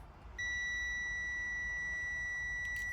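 Multimeter continuity beep while probing a gear position sensor wire on a Honda Foreman 500 ATV, a single steady high electronic tone that starts abruptly and holds alone to the end.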